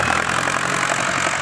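The diesel engine of a Ford New Holland 6610 tractor, working on land being cleared for rice fields, makes a loud, close, steady rumble and drone with no breaks.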